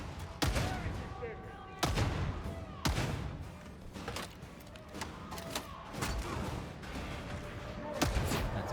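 Video game gunfire erupts from a gunner during an ambush: several sharp, spaced shots and bursts ring out over a steady background of game noise.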